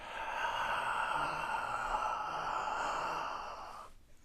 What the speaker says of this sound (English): A full deep breath where you really...